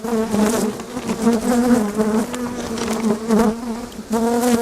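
Honeybees drone steadily around a hive in a dense, continuous buzz, close and fairly loud, swelling and fading slightly as they move about.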